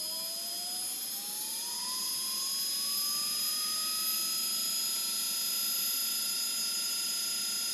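A Mitsuba electric motor spins up past 2000 RPM, giving a steady high whine whose pitch rises smoothly and then levels off, with a constant electrical hum underneath and no voices.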